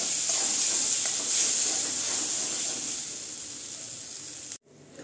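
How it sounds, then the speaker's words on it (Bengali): Green pea paste fries lightly in a pan, giving a steady close hiss and sizzle that slowly fades and then cuts off abruptly near the end, with no voices. "এখন আমি হালকা করে ভেজে নিব মটরশুঁটির পেস্টটাকে।"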